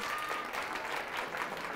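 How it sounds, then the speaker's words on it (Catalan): A quiz show studio audience applauds a contestant after a wrong answer, producing continuous, even clapping from a crowd at moderate volume with no voices over it. "aplaudim-lo, aplaudim-lo"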